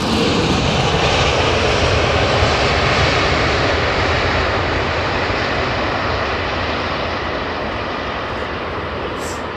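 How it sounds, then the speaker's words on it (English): A jet airliner landing at London Heathrow roars steadily with thrust reversers deployed, a loud, broad, sustained rumble that eases slightly toward the end, with no talk. "That's a half decent amount of reverser as well"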